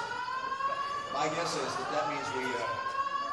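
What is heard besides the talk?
fire alarm sounding in building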